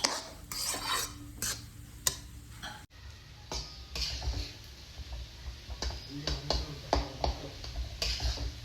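Milk-soaked fenugreek leaves are stir-fried in a pan for winter laddoos, with a spoon clinking and scraping against the metal in an irregular rhythm over a soft frying hiss.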